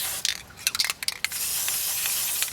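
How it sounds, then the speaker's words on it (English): A few short, sharp bursts from an aerosol can spraying lubricant onto the hood latch of a Mazda Miata MX-5, then a longer steady hiss of spray, close up. "we'll lubricate the hood latch as well. So we'll get that in there. We'll spray it on there."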